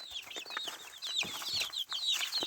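Young hens and roosters cluck and chirp in a busy, overlapping chorus of short calls, fairly faint and close, while feeding on wheat grits in a farmyard pen.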